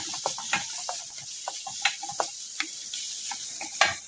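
Oil sizzling and crackling in a pan while vegetables are sautéed, steady hiss with scattered sharp pops and stirring clicks throughout.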